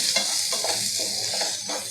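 A spoon stirs browned onion and chopped tomato in a hot pan while preparing a spicy chicken masala, giving soft rhythmic scrapes over a steady close sizzle.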